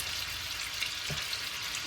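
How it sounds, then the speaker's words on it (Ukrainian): Steady, dense sizzling of whole pork ribs frying in an uncovered hot pan, continuous crackle with no voices. "І так обсмажую з двох сторін."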